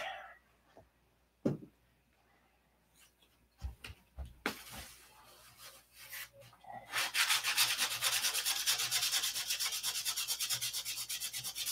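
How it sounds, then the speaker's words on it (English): Sandpaper works over a painted surface to fix paint flaws, starting with scattered scuffs and knocks and then settling into fast, rhythmic back-and-forth rubbing strokes that grow steady and fairly close. "I'm gonna fix it with sandpaper."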